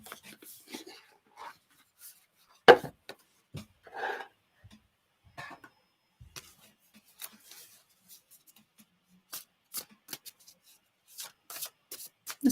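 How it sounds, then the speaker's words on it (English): Tarot cards are shuffled by hand in short, scattered bursts of soft riffles and slaps separated by quiet pauses, close and fairly faint. "I'll be shuffling away here."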